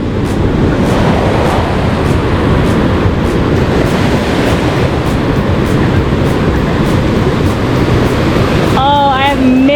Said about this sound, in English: Oh, I have missed the roar of the waves.